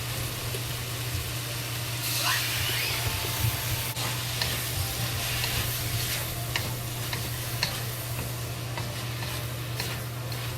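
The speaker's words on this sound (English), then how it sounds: "Just fry until the kale is fully cooked." Kale and pork fry in a pan with soy sauce, a steady close sizzle under a constant low hum, with occasional scraping and stirring clicks throughout.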